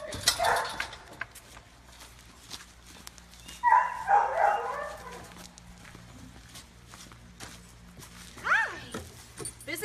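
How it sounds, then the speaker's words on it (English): Dogs at an animal shelter bark and yip in short scattered bursts, with a louder cluster near the middle and a brief whimpering whine toward the end, over faint footsteps and a low background hum. "So we're going to go ahead and bring our next dog out"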